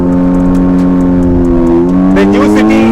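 A 2020 Honda City i-VTEC and an older Honda City VTEC at a drag race start, with loud steady engine drone that rises in pitch as the cars launch and pull away, close and dominant.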